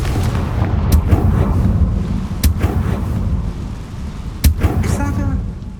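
Explosive spell blasts, Bombarda and Confringo, in the Hogwarts Legacy video game: several sharp booming impacts over a dense rumbling low roar, with a game voice speaking between the blasts.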